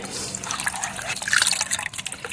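Half a litre of liquid compost poured into four to five litres of water, a steady close splashing trickle with dribbling and dripping throughout, without speech.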